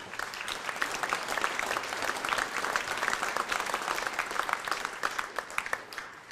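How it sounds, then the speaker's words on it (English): An audience at a middle school all-city jazz concert applauds the parents, a dense, continuous round of clapping from a sizable crowd lasting several seconds, with no talk over it. "so give them a little round of applause too"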